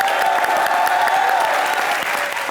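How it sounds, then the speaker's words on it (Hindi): Sustained, loud applause from a studio audience at a television comedy show, dense clapping from many people holding steady, with a faint tonal background underneath. "सोनाक्षी सिन्हा के लिए जोरदार तालियां हो जाएं।"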